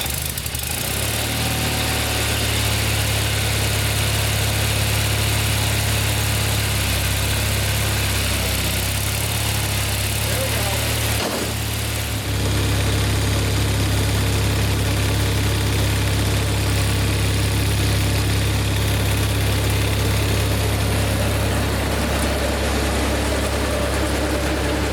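A Simplicity Sunstar tractor engine runs steadily with a shaft-drive snowblower attached, a loud, constant mechanical drone that dips briefly near the middle before resuming.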